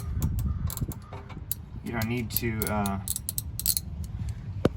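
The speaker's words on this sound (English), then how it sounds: "Okay, so I installed the drain plug. Now I'm going to snug it up." A wrench snugs up the oil drain plug on a first-generation Nissan Xterra 4x4 during an oil change, giving soft ratcheting clicks and metallic mechanism sounds up close, with a brief squeaky creak in the middle.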